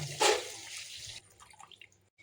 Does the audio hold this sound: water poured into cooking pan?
yes